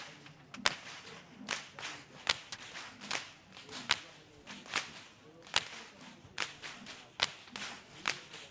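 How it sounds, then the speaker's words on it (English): Whip crackers lead the Kandy Esala Perahera procession in Sri Lanka, their whips snapping in sharp, loud cracks at an irregular pace, some close together, over a faint murmur of crowd noise. "Walking up front with the sound of thundering whips piercing through the skies are the whip crackers"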